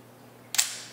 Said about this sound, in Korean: 들리는 이 셔터음